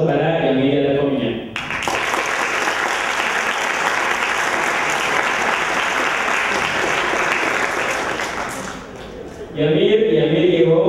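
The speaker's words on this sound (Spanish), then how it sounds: "Un fuerte aplauso para Emilia de la Comunidad" Loud sustained applause from an audience at a citizen debate contest final, dense continuous clapping lasting several seconds and fading slightly near the end, with a speaker's voice before and after.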